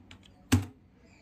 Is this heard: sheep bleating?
no